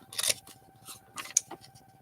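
Several quick, crisp snips of small fine-detail scissors cutting paper along a printed line, irregularly spaced and close up, with no talking.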